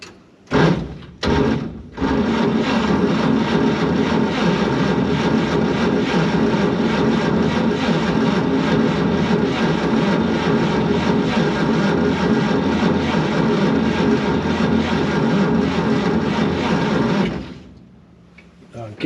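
A 1953 Chevy COE truck engine runs, a loud, steady rumble and whine that starts after a few brief bursts and holds evenly before cutting off near the end.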